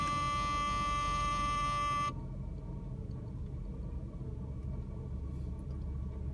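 A 1984 Mercedes 380 SL fires up from cold, a loud steady low rumble that settles into an even idle after a high electronic buzzer tone cuts off.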